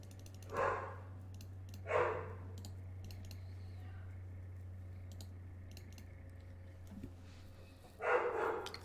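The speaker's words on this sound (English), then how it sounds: "Sorry for all the Lucy barking that's been going on lately." A pit bull named Lucy barks several times, with single sharp barks spaced a second or more apart, indoors over a steady electrical hum and scattered keyboard and mouse clicks.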